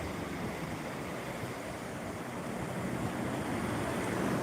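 Floodwater of the swollen Sina river near Solapur rushes in a steady, loud, broadband roar with no pauses, filling the whole stretch without any voices.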